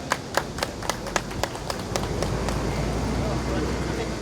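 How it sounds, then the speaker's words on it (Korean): Applause starts as a few scattered claps, then swells into steady clapping from a crowd at an outdoor civic rally. "큰 박수로 맞아주십시오."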